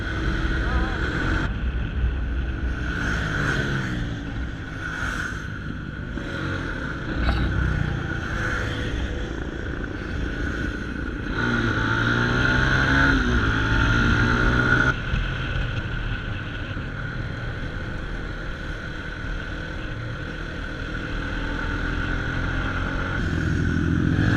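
Motorbikes ride along a road toward Chamundi Hills near Bangalore, with a steady engine drone and heavy wind rush throughout as a rider talks over the noise.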